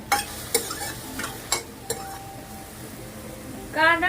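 Tomatoes fry in a pan with a soft, steady sizzle, broken by several sharp clinks as a spoon strikes the pan's rim. A voice briefly rises at the very end.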